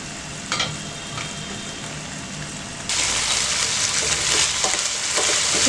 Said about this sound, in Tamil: இது ஃப்ரை ஆகட்டும்.